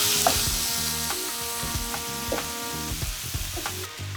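Peppers, jalapeno slices and onion sizzle in a hot pan, a steady close frying crackle broken by the regular scrape and clatter of a utensil stirring, with no voices.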